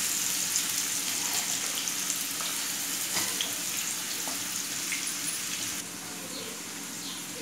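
Finely chopped onion hits hot oil in a pan, giving a steady, fairly loud sizzling hiss that runs without a break and drops slightly in level near the end. No one speaks over it.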